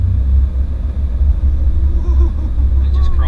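A 2019 Honda Pilot accelerates as it crawls up a steep hill, giving off a loud, deep, close engine rumble throughout the short stretch.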